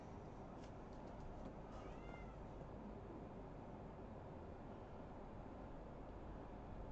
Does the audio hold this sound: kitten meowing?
yes